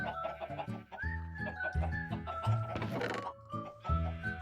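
Minecraft chickens cluck inside an automatic yakitori-making contraption with an on-off switch, a busy run of clear, close game clucks and squawks overlapping one another.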